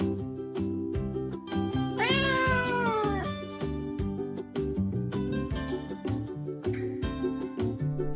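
A yard cat lets out a long rising-and-falling meow near the middle, with softer mews around it, over a continuous rhythmic music bed; no one speaks.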